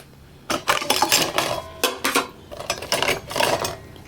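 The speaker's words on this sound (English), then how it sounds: "I also have a stainless steel cooking kit." A stainless steel cooking kit is handled, pots and lids clanking and rattling in a series of close, sharp metallic knocks and scrapes with short pauses between.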